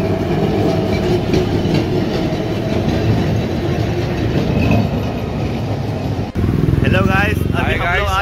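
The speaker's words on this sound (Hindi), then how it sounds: "कलकत्ता का ट्राम आ रहा है अभी." A Kolkata tram approaches with a rumbling, rattling rail roar that stays loud and close, followed by squealing wheel tones near the end, heard amid street noise.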